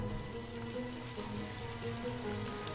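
Steady rain falls on a surface as an ambient effect in a narrated audiobook, a continuous soft patter with no voices.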